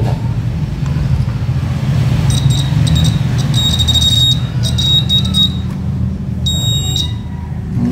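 A multitester in buzzer continuity mode beeps in a series of short, shrill, close bursts, some quick and stuttering, over a low background hum.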